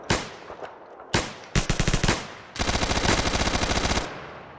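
Bursts of video game gunfire: a few separate single shots, then two longer rapid automatic volleys, loud and close with no talking over them.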